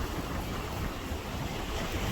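Strong sea waves surge continuously at a fishing spot on the coast near Kombuthurai, a steady broadband roar of surf mixed with wind buffeting the microphone, with no voices.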